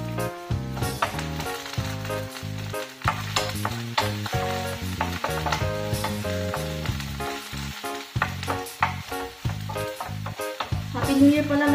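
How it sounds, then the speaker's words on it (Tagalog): Chayote and carrots are sautéed in a pan, giving a continuous close scraping and stirring clatter with ringing metallic tones over a bed of frying noise. "yung unang igisa ko yung gulay ko"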